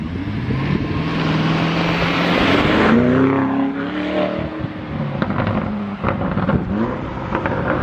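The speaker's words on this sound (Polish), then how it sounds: "Posłuchajcie, jak brzmi ten samochód." A Lamborghini Urus fitted with an Akrapovic exhaust revs and accelerates, making a loud, close engine roar that swells and falls with crackling bursts toward the end.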